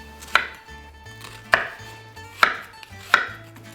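Knife chopping garlic and onions on a board for a lasagna sauce, four sharp, close chops spaced about a second apart with quiet gaps between.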